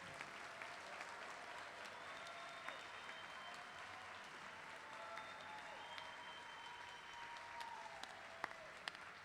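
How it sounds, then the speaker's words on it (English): Commencement audience applauding the graduating class of 2021, a steady wash of clapping from a large crowd heard at a distance, fairly quiet and continuous. "Let's have one more round of applause for the graduating class of 2021."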